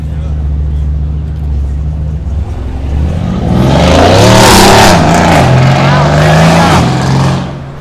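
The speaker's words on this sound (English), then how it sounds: "I heard the throaty engine." A Mercedes C63 engine rumbles low, then revs up loudly and roars nearby before settling, with people talking over it.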